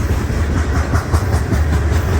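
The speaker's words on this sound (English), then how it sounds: "Hey, there's a grain shuttle." Freight train grain shuttle rolling through a rail yard, steady loud low rumble with continuous wheel noise and faint rhythmic clatter of cars passing close by.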